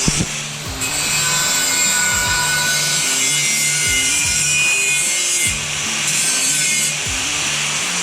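Grinding on the steel body of a propane tank being converted into a woodstove, a loud continuous abrasive whine with rhythmic surging passes and brief pauses, close and alone with no talking.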